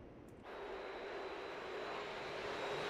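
Su-27 Flanker jet engine in the DCS World flight simulator, a steady roaring broadband rush with a faint high whine that cuts in abruptly after a brief quiet start and holds loud and even.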